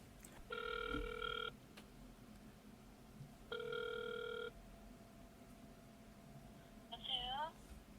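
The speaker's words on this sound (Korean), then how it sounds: "우리 한번 이분한테 전화를 해볼까요?" Telephone ringback tone heard while calling someone, two long electronic rings about two seconds apart, moderately faint against a quiet background, followed by a short rising chirp.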